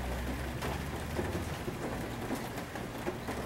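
Steady rain falls outside, a dense, even patter of drops hitting surfaces, with a faint low rumble underneath, continuous and unbroken throughout.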